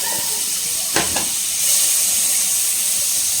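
Butter sizzles in a hot pan while making chippy pasta, a steady bright hiss with a brief sharper crackle and spatter burst near the start, close and continuous without talk.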